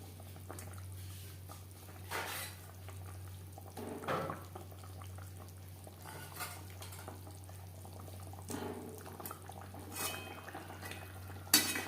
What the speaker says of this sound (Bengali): গ্রেভির মাছ বেশ ভালো করে মিক্সড করে দেবো গ্রেভির সাথে